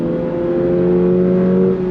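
Engine of a 2025 Toyota GR86 sports car, pulling in second gear on throttle toward 7,500 RPM, producing a loud, sustained droning engine note that holds steady and close for two seconds.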